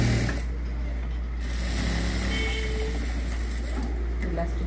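Sewing machine stitching the lining of a blouse, a steady mechanical hum and whir running throughout at close range, with speech over it.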